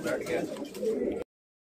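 Pigeons cooing in a covered pigeon loft, with steady, close, throaty coos rolling on for about a second before cutting off abruptly.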